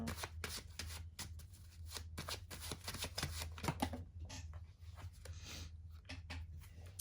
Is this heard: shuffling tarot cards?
yes